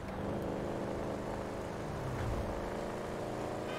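A car engine in the video game GTA V drones steadily, with a muffled, continuous motor hum that stays level and close throughout.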